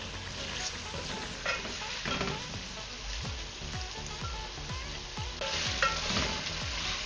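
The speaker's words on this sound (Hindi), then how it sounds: "तकरीबन 1 मिनट हो गया है इन मसालों में चिकन को भूनते हुए।" Chicken frying with spices in a pan, a steady close sizzle under repeated rhythmic scraping and clinking of a spoon against the metal, growing a bit louder near the end, with no voices.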